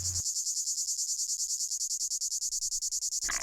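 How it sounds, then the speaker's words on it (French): Cicadas sing in flowering garrigue on clifftops, giving a loud, continuous, rapidly pulsing high-pitched buzz that runs steadily throughout, with faint low sounds beneath it. "la garrigue fleurie vibre du chant des cigales."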